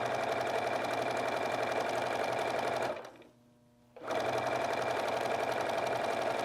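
A sewing machine stitches a seam in fabric for a gnome bottle topper, running in a fast, even, continuous chatter close by, pausing for about a second before resuming at the same pace.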